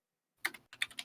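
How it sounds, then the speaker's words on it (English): Fingers tap a computer keyboard in two quick bursts of several clicks each after a short silence, soft and close. "I'm typing some."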